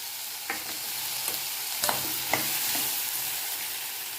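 Green peas are stirred in a hot pan with turmeric and chili powder, giving a steady sizzle broken by a few sharp scrapes of the spoon against the pan.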